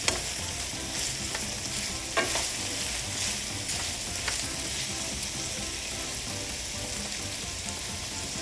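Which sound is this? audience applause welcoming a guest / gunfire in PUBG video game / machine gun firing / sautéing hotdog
sautéing hotdog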